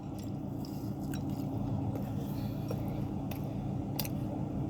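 Food filled with pepper and beans being bitten and chewed close up, with soft crunchy, squishy mouth sounds repeating steadily under a constant background hiss.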